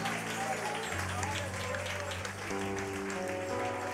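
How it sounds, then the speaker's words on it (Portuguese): A church congregation claps along during Portuguese worship under a sustained sung or spoken voice and instrumental music, a continuous dense patter of hands that stays at one level throughout. "Aplauda o Senhor!"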